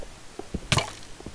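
Minecraft skeleton archer firing an arrow, a short whooshing twang followed by faint small clicks, brief and moderately loud over a quiet background.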